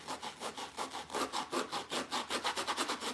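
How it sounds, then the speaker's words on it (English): A handmade primitive Valentine snowman has its fibers loosened by vigorous rubbing, giving a fast, even run of rasping strokes, close and moderately loud, with no talk. "I'm just trying to loosen these fibers up so I can give him the look that I want him to have"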